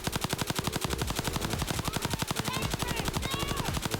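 Rapid automatic gunfire in the cartoon animal battle royale game Super Animal Royale, a fast, evenly spaced burst of shots repeating continuously at moderate volume, with a few faint game effects over it.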